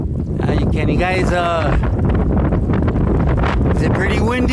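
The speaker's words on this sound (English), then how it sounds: "is it pretty windy?" Steady gusty wind roars against the microphone while voices talk over it.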